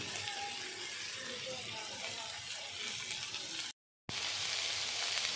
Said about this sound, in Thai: ผัดให้หอมเลยค่ะ ตอนนี้กลิ่นคิงกลิ่นรากผักชีนะคะ กลิ่นกระเทียม กลิ่นพริกไทยดำนะคะ